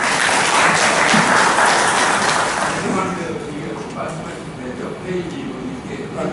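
An audience at a council debate on farm budgets breaks into loud clapping that fades after about three seconds, and a voice speaks over the dying applause.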